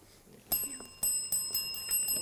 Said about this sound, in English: And that bell signifies the end of the match.